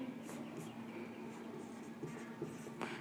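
Chalk or marker scratches across a board during a physics lecture on spherical mirrors, faint and intermittent strokes over a steady low room hum.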